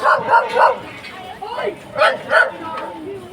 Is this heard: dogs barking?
yes